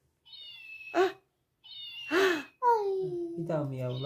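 A sick cat gives two clear, drawn-out meows close by, each rising and then falling, with a child and an adult talking in between and afterward.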